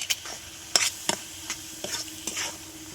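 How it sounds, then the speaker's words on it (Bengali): A spoon stirring spices, turmeric and red chilli into a ground white sesame and poppy seed paste in a pan, giving a few soft, scattered scraping taps with a faint sizzle underneath. "ভালো করে নাড়িয়ে নেব"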